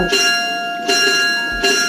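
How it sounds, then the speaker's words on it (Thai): A bell rings three times at a steady pace, each strike bright and ringing with a lingering metallic tone, close and clear. "หรือว่าจะเป็นเสียงเบลโก็ได้นะคะ"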